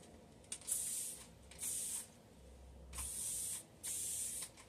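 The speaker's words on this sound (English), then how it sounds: "and just give that a good mist" An aerosol can mists a clear coat over painted home decor in four steady hissing bursts of about a second each, close by and quiet, with short pauses between them.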